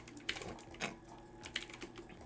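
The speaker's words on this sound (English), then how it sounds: "Maxim, I can show you my keyboard." A few scattered key taps on an inexpensive computer keyboard, quiet, irregular clicks across a couple of seconds with soft background hum.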